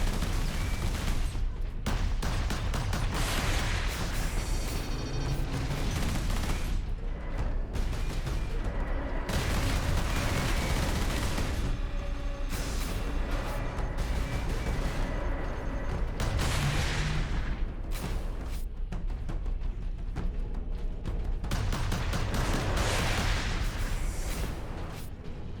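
Sustained heavy turret gunfire in Warhammer 40k: Space Marine on hard mode, a loud continuous barrage of booming shots and blasts running nearly unbroken from start to finish.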